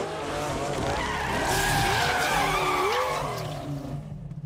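Car tires squeal and skid in Need for Speed Unbound, a loud, sustained screech with engine roar that fades out at the end.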